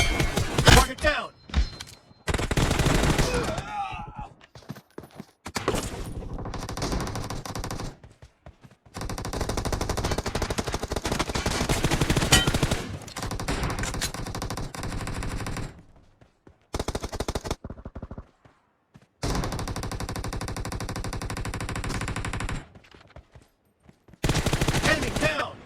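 Rapid bursts of automatic gunfire in BGMI (PUBG) during a warehouse team deathmatch, loud and near, broken by short silent gaps across the stretch, with game voice callouts mixed in.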